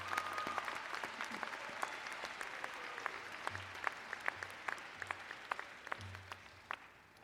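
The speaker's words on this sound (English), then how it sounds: "can we take one more minute to give another round of applause to our faculty?" Applause for the faculty at a commencement ceremony, a sustained wash of many hands clapping from a large crowd, moderately distant and fairly even, with a few sharper claps standing out.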